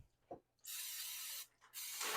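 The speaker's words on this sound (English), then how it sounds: "I'm just going to spray these so that my bread doesn't stick." Non-stick cooking spray hisses into stoneware loaf pans in two bursts, a long steady one then a second after a brief pause, close and fairly loud, preceded by a small knock.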